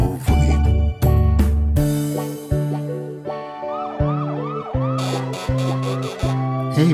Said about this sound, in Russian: Я полицейская машина, еду на объезд вокруг.